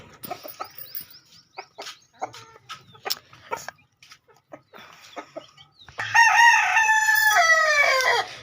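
Hens, including a desi hen, give short, sporadic clucks and scratchy noises nearby, then a loud, drawn-out crow rings out at the end.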